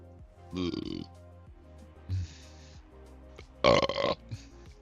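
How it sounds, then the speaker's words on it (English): Loud belches in a short burst of three, with brief quiet gaps and a low grunting tail on the first, close to the listener, with no talk over them. "Alright, you guys probably heard those burps."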